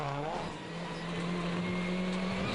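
A Citroen rally car engine at the 2005 Rally Sweden drones and strains, sounding faulty, its pitch sliding down and then holding steady, a fairly quiet, rough mechanical roar.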